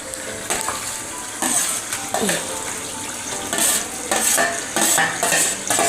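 Roasted eggplant mash stirred into a pan of cooked onion, tomato and chilli, with repeated scraping and clinking strokes of a spoon against the pan over a soft sizzle.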